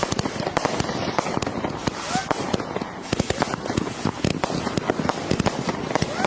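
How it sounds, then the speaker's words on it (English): A 72-shot 16mm fan cake firework barrage, an F2 garden barrage, firing a rapid, continuous run of sharp cracks and bangs, dense and loud throughout with background voices mixed in. "They've also got a 72-shot 16mm fan cake."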